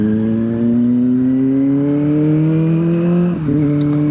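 Kawasaki ZX25R motorcycle engine droning steadily at high revs while riding, pitch rising slowly before a brief dip and recovery as the rider shifts, loud and continuous with no talk.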